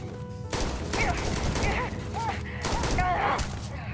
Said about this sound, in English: I'm getting shot in the ass.